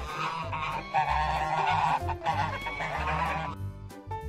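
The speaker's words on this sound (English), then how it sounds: "Goose." Goose honking for a children's animal-sounds lesson: a string of loud, nasal honks repeating in an irregular rhythm over light background music.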